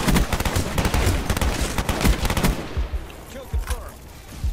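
Rapid automatic gunfire in a video game, loud and close, hammering in a dense burst before thinning into scattered shots and a quieter tail.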